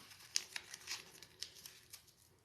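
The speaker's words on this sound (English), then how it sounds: "let's give them all a little crumply fold like that" Small paper slips are crumpled and folded one after another for a hat draw, giving soft, faint crinkles and crackles in an irregular run of short bursts close by.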